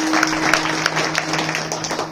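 Audience at a Marathi devotional kirtan gives brief, scattered rhythmic applause, moderately loud over a steady hum from the sound system.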